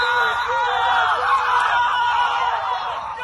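A man's high, sustained scream during a basketball play rises over a loud, dense crowd and court din for about three seconds, with no clear talk.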